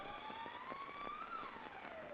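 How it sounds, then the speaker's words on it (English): A state penitentiary siren wails steadily in the distance, its tone slowly rising and then falling, faint and continuous over a rhythmic pulsing background. "they can hear the siren of the state penitentiary from which they've just escaped that evening."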